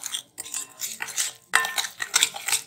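Spoon scraping and clinking against a pot while tikka masala is stirred into meat for tikka boti karahi, irregular bursts of metallic stirring with short pauses, close and moderately loud, no talking.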